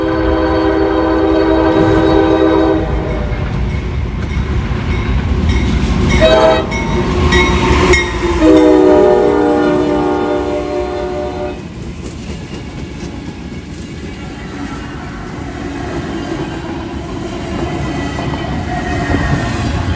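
A long freight train led by C40-8W and SD70 locomotives rumbles past at close range, blowing loud horn blasts in the first half while wheels and cars roll by steadily throughout.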